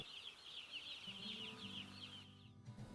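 Chickens crowded in an enclosed broiler farm house, a steady dense chorus of clucking and fowl calls filling the space, with a low mechanical hum joining partway through.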